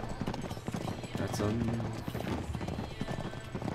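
Horses galloping in the Uncharted 3 video game, quick rhythmic hoofbeats with a whinny, under someone talking over the gameplay.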